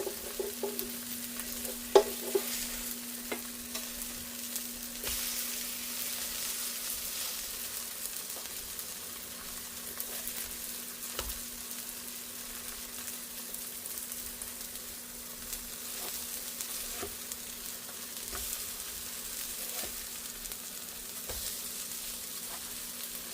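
Zucchini-corn fritters sizzle steadily in a frying pan, a constant low crackle of oil running the whole time with occasional small pops and a faint stir, no voices.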